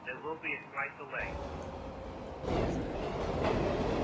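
A Dire Docks 2 train in a Roblox game rumbles past with a steady rolling clatter that swells louder partway through, following a few seconds of talk at the start.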